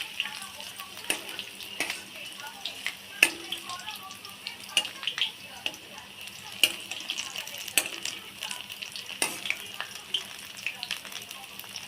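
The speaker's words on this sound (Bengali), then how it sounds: "এবার আস্তে আস্তে ভেজে নিতে হবে।" Potato mixture frying gently in a little oil in a pan, a steady soft sizzle with scattered crackles and small clinks of a spatula throughout.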